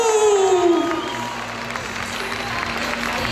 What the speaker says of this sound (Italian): Un bel applauso ancora.